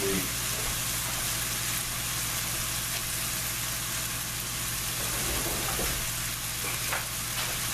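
Vegetables for stuffed tomato with eggplant sizzle and fry steadily in a hot pan, a loud, continuous crackle that runs unbroken throughout with no voices.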